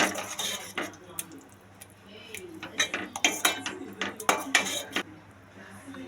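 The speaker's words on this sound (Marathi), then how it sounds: "थोडं पाणी टाकून परतून घेऊया आता" A spoon clanks and scrapes against a pan as prawn masala is stirred with a little added water, the metallic knocks coming in quick irregular bursts up close with no voices.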